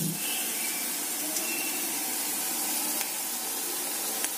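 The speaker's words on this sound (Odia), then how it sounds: "ଏ ପିଆଜ ଆମର କେମିତି ପୁରା ଭଲ ଭାବରେ ଭାଜି ହେଉଛି" Chopped onions frying in a pan for a home-style mixed vegetable curry, giving a steady, close, even sizzle with faint crackles throughout and no talking.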